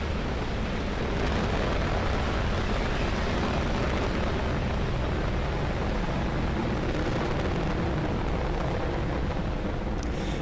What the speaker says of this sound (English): there is successful liftoff of Falcon 9 carrying our 18th resupply mission on a Dragon spacecraft to the International Space Station